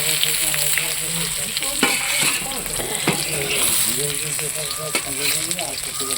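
Pumpkin leaves fry in a pan on a village clay stove, giving a loud, continuous close sizzle with occasional scrapes and stirring knocks while a voice talks softly underneath.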